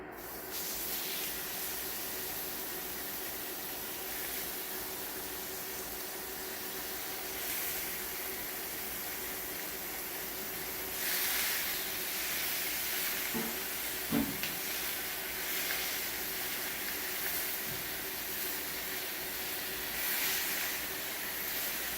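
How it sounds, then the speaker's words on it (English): Ground beef sizzling in a skillet preheated to 375 degrees, a steady hissing fry with occasional scraping and clinks as the meat is chopped while it browns. "I'm going to add the ground beef and brown it up."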